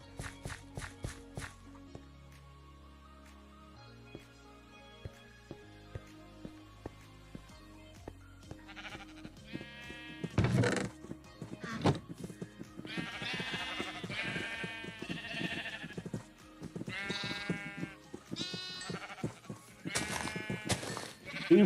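Sheep bleating in Minecraft, several repeated bleats in the second half over a busy game soundtrack with footsteps and background music.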